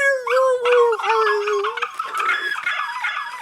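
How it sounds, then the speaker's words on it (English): A dog howls in a rising, wavering cry that slides down and then breaks into higher yelps and whines, loud and close, with no talk over it. "Dog screaming."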